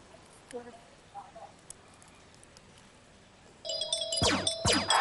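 A doorbell-style ding-dong chime rings out in the second half as the answer in a children's call-in guessing game show, a bright repeated ringing tone that follows a quieter stretch.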